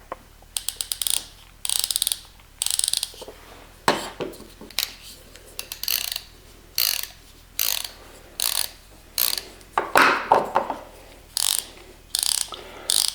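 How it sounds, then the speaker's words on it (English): A ratcheting screwdriver, comparing an LTT model with a PB Swiss, clicks in close, loud bursts of rapid ratchet clicks separated by short pauses, repeating steadily throughout with no talk. "Let's see if we can see the difference in the ratcheting here."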